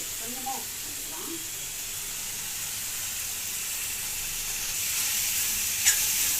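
Vegetables sauté with salt in a pan, giving off a steady, even sizzle that grows slightly louder toward the end, with a brief faint voice near the start.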